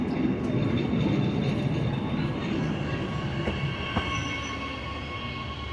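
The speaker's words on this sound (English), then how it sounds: "So here comes the train." A train rumbles in loudly and steadily, wheels grinding on the rails with a faint squeal as it pulls into the station, in the Vallon de Berard in the French Alps.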